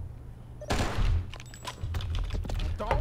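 Gunfire in the Oni video game: a burst of sharp shots and impacts rattles off over a low steady game drone, with scattered thuds following the opening volley.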